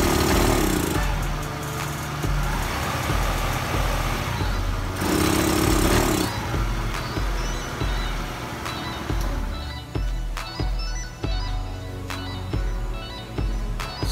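A scooter engine with a carburetor fault revs at full throttle nearby, a loud buzzing drone that surges and falters unevenly, dropping back in strength partway through.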